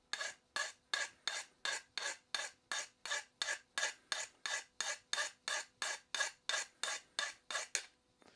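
Rhythmic rasping strokes of a sharpening file drawn across a steel blade edge, about twenty even passes in steady succession, close and clear with no talking.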